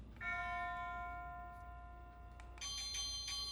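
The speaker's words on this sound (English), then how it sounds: "there are a ton of different options when it comes to the doorbell as well" A SadoTech wireless electronic doorbell chime plays a few clear sustained tones, followed by a brighter, higher set of ringing notes, close and fairly quiet.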